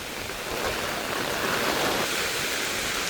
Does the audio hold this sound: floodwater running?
yes